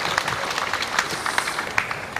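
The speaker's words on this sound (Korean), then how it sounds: "우리 다 같이 환영의 박수 부탁드리겠습니다" Applause from a festival opening crowd welcoming a busload of visiting guests at the Icheon peach festival, a moderate, steady wash of many hands clapping with scattered sharper claps throughout.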